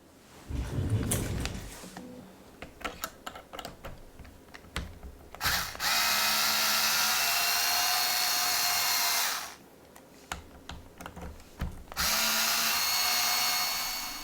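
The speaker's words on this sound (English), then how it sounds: "I like to use a little power tool that you can set the torque on" A handheld power screwdriver with a torque setting whirs in two sustained bursts, loud and close, with ratcheting clicks and mechanical rattling between runs, while working on RC car shocks.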